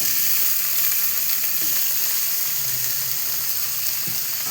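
Chopped tomatoes fry in a pan for cauliflower fried rice, giving a steady, close, bright sizzle that runs without a break and without any talking.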